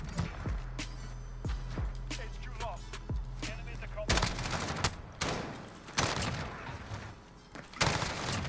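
Gunfire in a Modern Warfare multiplayer match, with sharp repeated shots and bursts, some close and loud, others farther off, spread irregularly through the scene along with rumbling impacts.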